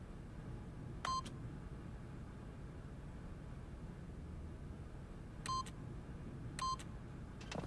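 Keypad PIN entry beeps in the video game The Stanley Parable: a short burst of multi-tone button beeps, then a pause and two more quick beep bursts, each clear over a steady low background hum.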